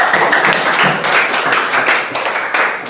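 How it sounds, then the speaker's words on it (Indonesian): A classroom full of students clapping their hands together, a dense and steady round of applause that holds at a loud level from start to finish with no one speaking. "Oh, tepuk tangan."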